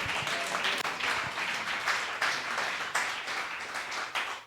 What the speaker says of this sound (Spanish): ¿Cuántos aplaudimos el nombre del Señor?